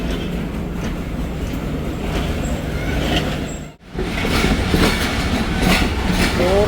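A train rumbles past on the railway near Peshawar with a loud, continuous clatter of wheels over rail joints. There is a momentary dip partway through, then the rolling noise returns just as strong.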